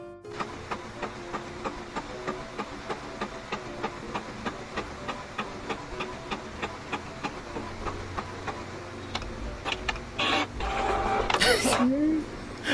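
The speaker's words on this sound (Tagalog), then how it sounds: "meron tayong printer na nagangain" A jamming printer runs with a steady rhythmic ticking and whirring, fairly close, with louder scraping bursts near the end.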